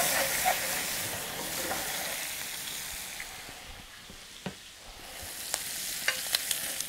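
Bacon frying in oil in a pan gives a steady, close sizzle and hiss throughout, with a few sharp pops and crackles breaking through, and no talking.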